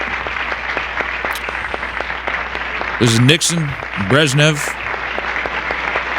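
Applause in archival footage of a Nixon and Brezhnev ceremony, a continuous patter of clapping under a voice that talks over it in the middle.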